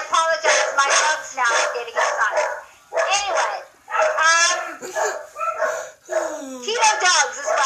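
Several excited dogs bark in rapid bursts, loud and close, with yips between the volleys and a person talking over them.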